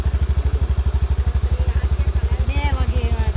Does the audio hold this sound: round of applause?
no